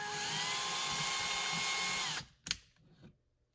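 Power drill with a 13/64 bit widening a hole in a wall for a drywall anchor, a loud steady high whine for about two seconds that cuts off, followed by a couple of short clunks, close up.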